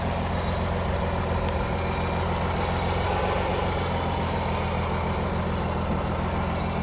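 A 2003 Kia Sorento's engine idles steadily and evenly, a low continuous hum with faint mechanical ticking heard up close under the hood, with no talking.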